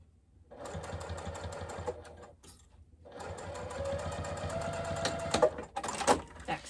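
A sewing machine runs close by, stitching a fabric bag's edge closed in two bursts with a brief pause between, the steady mechanical whir loud and unaccompanied by speech.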